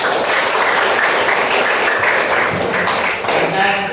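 Schoolchildren in a classroom clap together at the teacher's call, a loud, sustained burst of many hands with faint voices underneath, steady throughout and briefly dipping near the end.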